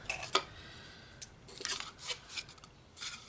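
Scissors snip through scored card stock for a cascading card and box craft, making a few sharp, quiet, close cuts spaced irregularly in an otherwise still room.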